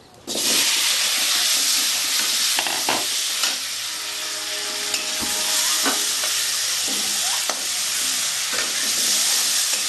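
Potatoes frying in hot oil in a pan, left over from frying aubergine and prawns for a Bengali aloo begun chingri dish: a loud, steady sizzle from start to finish, with a few scrapes and clinks of stirring.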